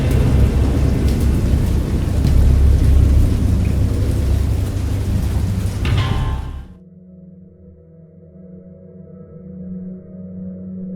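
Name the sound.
thunderstorm with rain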